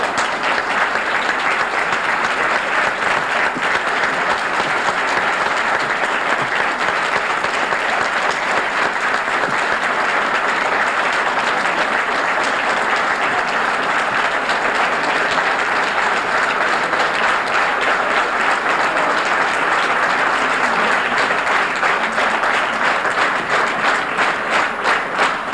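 A large audience applauds after a political speech on the West Bank uprising, loud continuous clapping and crowd noise that holds steady throughout without fading.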